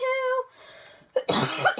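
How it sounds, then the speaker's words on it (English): A single harsh cough bursts out near the end, following a brief tonal sound and a quiet pause. "I was trying to hold off the cough"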